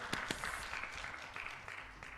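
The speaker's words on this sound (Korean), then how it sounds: "하나님께 영광의 박수 올려드리겠습니다." A congregation claps during a Wednesday evening church worship service, soft and somewhat distant, a steady wash of clapping lasting a couple of seconds.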